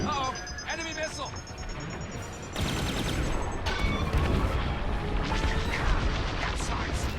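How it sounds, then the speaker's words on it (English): A missile strikes a starfighter in the space-combat game Star Wars Squadrons, a loud blast bursting in at mid-clip over ongoing laser fire and engine roar, with a game voice talking early on. "I'm hit. Uh-oh, enemy missile."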